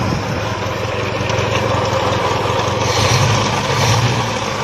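Engine with low power running after a spark plug swap and still misfiring, a loud steady close-up rumble with uneven pulsing throughout and no talking.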